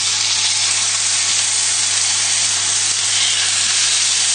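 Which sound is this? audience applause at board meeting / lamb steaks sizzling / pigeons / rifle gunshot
lamb steaks sizzling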